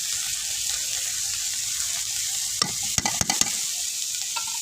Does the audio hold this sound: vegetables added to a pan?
yes